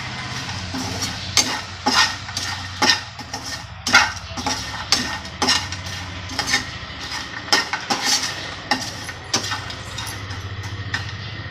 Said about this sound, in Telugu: ఇప్పుడు చామదుంపలు ఉన్నాయి కదా, అవి ఇందులో వేసుకోవాలి. ఒక 1 మినిట్ ఫ్రై చేసుకోవాలి.